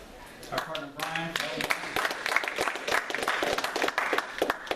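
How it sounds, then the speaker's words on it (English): An audience applauds a presenter at a talk, the clapping rising to a dense, steady patter of many hands that holds throughout, with a voice briefly audible at the start. "A round of applause for our partner Brian."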